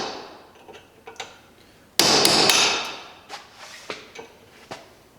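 A hammer drives a chisel into a part of an International Farmall Super H tractor under restoration, giving sharp metallic strikes at irregular intervals, with a louder ringing burst midway and lighter taps after it.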